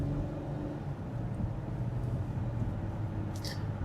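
A car drives with no coolant in the engine, producing a continuous low engine and road rumble that stays steady and fairly close throughout.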